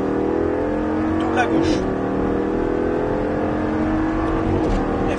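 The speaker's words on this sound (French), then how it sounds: "Élargis, réaccélération jusqu'à fond" Sports car accelerating hard on the Folembray race circuit, a loud continuous engine roar climbing in pitch through the gears, with an instructor talking over it inside the cabin.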